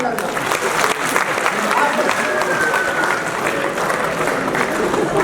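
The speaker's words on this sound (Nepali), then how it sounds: "तपाईँहरू सबैले ताली बजाएर होला पनि" An audience in a hall at a Nepali political gathering applauds, giving dense, sustained clapping for about five seconds with crowd voices mixed in.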